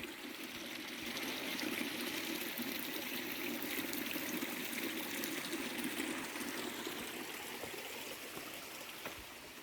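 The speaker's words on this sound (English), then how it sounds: "There's another little brook making its way down towards the river" A small brook trickling down a valley toward a river near a cobbled road in the Troodos mountains of Cyprus, a steady close rush of running water with no talk.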